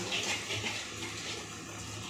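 Water is poured into a besan (gram flour) batter for vada pav, a continuous close gushing splash that holds steady for a couple of seconds with no talking.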